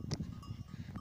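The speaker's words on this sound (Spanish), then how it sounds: "Me están siguiendo un mogollón de cabras locas." A herd of goats on a mountain trail between Cordiñanes and Collado Jermoso gives short, close bleats over a soft rustling background, with one prominent cry near the start and fainter calls following.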